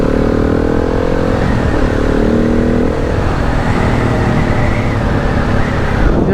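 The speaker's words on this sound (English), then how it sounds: "Riding a 2021 KTM 690 enduro out here on the bridge." A 2021 KTM 690 Enduro motorcycle riding over a bridge, its engine droning loud and close with a steady throttle and slight pitch shifts, mixed with wind rush.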